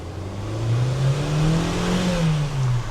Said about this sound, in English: if you floor the car and want the car to respond